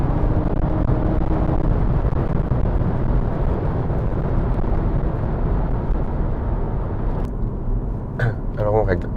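A Honda Civic hybrid accelerates in sport mode, a loud, steady engine and road roar that fills the cabin and eases slightly near the end, when a few brief chimes or clicks sound.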